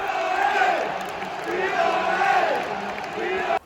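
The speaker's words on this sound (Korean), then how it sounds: "그리고 바로 입스위치에서 침대 조크를 시전해서 지금 야유하고 있는 상황입니다" Football stadium crowd at a Tottenham match booing an Ipswich player for time-wasting, a loud sustained wall of massed voices with rising and falling jeers, ending abruptly.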